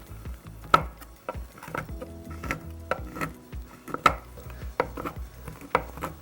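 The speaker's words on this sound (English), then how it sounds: "So what I'm doing is just chop it up into smaller pieces so it melts a lot faster." A knife chops chocolate into smaller pieces on a board, a series of irregular, close, fairly loud thuds and cracks with a faint background hum.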